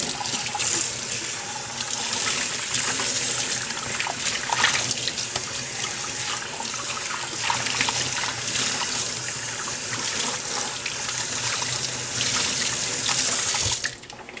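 Cold water runs from a tap into a sink while dyed fabric is rinsed under it, a loud steady splashing stream with small shifts in texture, continuing unbroken until it cuts off at the very end.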